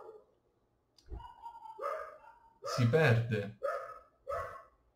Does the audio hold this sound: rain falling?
no